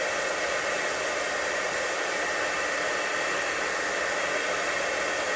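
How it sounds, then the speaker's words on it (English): A heat embossing tool blows hot air over embossing powder on a handmade floret greeting card, giving a steady, close, hair-dryer-like whoosh that holds unchanged throughout with no talking. "run the heat embossing tool"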